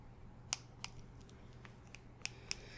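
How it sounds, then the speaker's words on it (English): Cat claw trimmers used to cut hair give a few quiet, sharp snips spaced irregularly, each a crisp close click over a soft background hum, with no speech. "These are to trim a cat's claws. I'm gonna use these."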